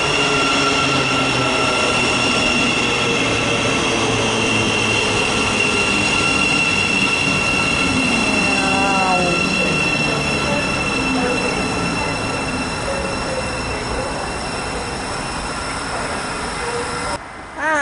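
A Thameslink Class 700 electric train rumbles steadily through Mill Hill Broadway station, with a continuous loud roar, tonal motor whine and a brief wheel squeal partway through.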